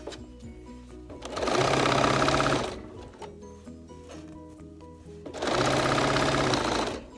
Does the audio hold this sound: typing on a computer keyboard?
no